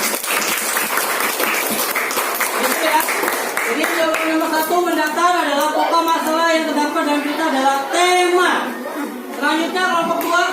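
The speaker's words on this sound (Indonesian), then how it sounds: "tepuk tangan untuk kelompok satu dulu" A classroom full of people clapping steadily for several seconds, with scattered voices and cheers mixed in.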